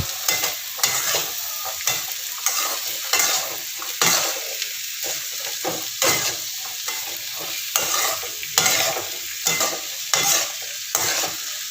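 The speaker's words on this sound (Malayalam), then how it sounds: "ഇതിലേക്ക് മാങ്ങ ചേർത്തിട്ട് നന്നായിട്ട് ഇളക്കി കൊടുക്കുക" Mango pieces are stirred into a sizzling pickle mixture in a pan, with a rhythmic series of scraping strokes repeating about every second over a constant frying hiss; no voices.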